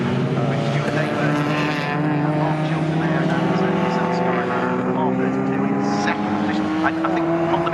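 Classic race cars, among them a turbocharged car and a red car, circle Snetterton circuit in a Future Classics series race. Several engines drone at once with rising and falling pitch, loud and continuous.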